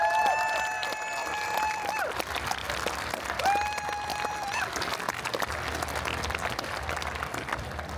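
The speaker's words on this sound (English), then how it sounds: "folks, please, once again, a big round of applause" Loud audience applause at a comic convention fills the room, steady clapping from a large crowd with a few whistles and cheers rising over it.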